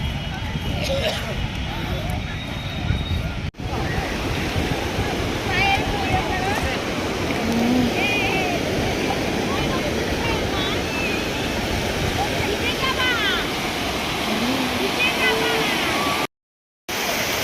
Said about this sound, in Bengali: চলে আসলাম আমরা এখন সি বিচে